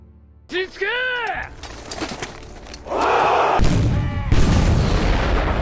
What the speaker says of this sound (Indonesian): Pasukan kaisar menggunakan meriam untuk menyerang mereka langsung.